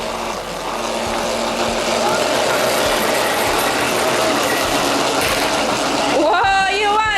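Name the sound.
remote control toy cars spinning together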